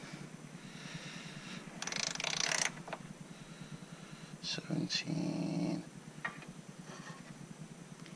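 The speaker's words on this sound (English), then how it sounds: "So we're gonna tighten this to 19 Newton meters as well." Bolts on a BMW 335i manual transmission mount are tightened to torque, giving a few short ratcheting bursts and clicks between quieter gaps, close and moderately loud.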